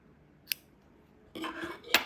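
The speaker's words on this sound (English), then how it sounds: "then cut off the yarn" Scissors snipping crochet yarn, with a sharp metallic snip, then a burst of handling rustle and a second crisp cut, close and fairly loud with no talking.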